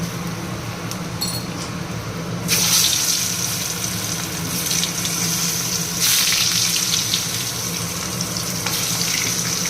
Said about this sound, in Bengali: তেল বসিয়েছি আগে আলুটা দিয়ে নিই আলুটা আগে না দিলে হবে না